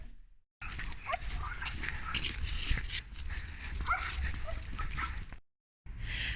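Dogs at a veterinary clinic whimper, yip and bark in a busy, echoing room, their cries scattered through steady background noise with people talking faintly.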